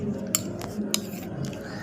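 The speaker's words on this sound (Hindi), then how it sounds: "एंड हम इसको मिक्स कर देंगे।" A spoon stirs salt into raita in a bowl, giving a few light, sharp clinks against the dish at irregular intervals, close and fairly quiet over a soft background hum.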